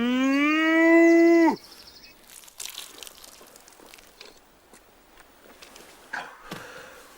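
A cow lets out one loud, drawn-out moo with a rising, harmonic tone lasting about a second and a half, close and clear. Quieter rustling and crunching follow, with a brief murmur of voice.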